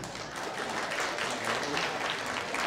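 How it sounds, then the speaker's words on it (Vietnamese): Sustained audience applause at a Buddhist vegetarian fundraising banquet and performance at a temple in Arizona, with many hands clapping steadily and fairly loudly throughout. "một tràng pháo tay thật lớn nữa cho tất cả quý Phật tử"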